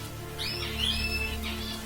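Pet zebra finches give a few short, bright chirps close by over a steady low indoor hum, the calls sparse and thin.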